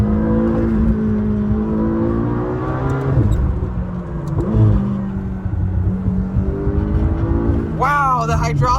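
A 2025 McLaren GTS supercar in third gear pulls hard as the throttle opens, the engine droning and climbing under load before a sharp, high rev flare near the end, with someone talking over it.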